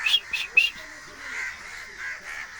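Crows swoop and peck at a person outdoors, giving three sharp caws at the start, followed by fainter, drawn-out calls in the background.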